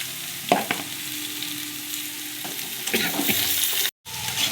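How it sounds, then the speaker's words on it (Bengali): Potatoes and onion greens fry in oil in a pan, a constant close sizzle broken by several scraping stirs of a spatula, with a brief dropout near the end. "তেলের সঙ্গে ভালো করে ভেজে নেব"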